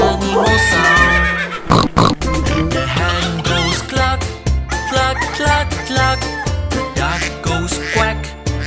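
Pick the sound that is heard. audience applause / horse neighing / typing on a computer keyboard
horse neighing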